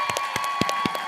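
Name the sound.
audience applause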